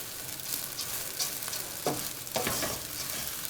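Rice fries in a pan before blended tomato is added, a soft continuous sizzle with a few brief scraping stirs, quiet and close, with no one speaking.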